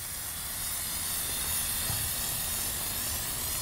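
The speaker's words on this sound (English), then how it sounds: "now I'm going to be spraying from this side" A steady, continuous hiss of an aerosol can spraying fibers, running for several seconds without pause.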